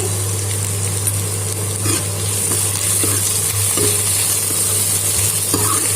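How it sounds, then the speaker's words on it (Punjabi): Cumin seeds sizzling in hot oil with onions and potatoes for Punjabi kadhi, a loud, steady frying hiss close up with occasional stirring scrapes and clinks in the pan. "ਹੁਣ ਆਪਾਂ ਇੱਕ ਚਮਚਾ ਜੀਰੇ ਦਾ ਪਾਵਾਂਗੇ"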